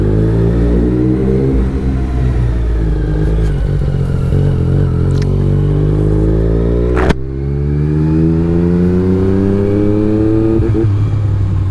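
Yamaha MT-09 motorcycle engine running at steady throttle, loud and close, with a rising and falling tone that stumbles and briefly cuts out partway before picking back up, a misfire upsetting the idle-like drone.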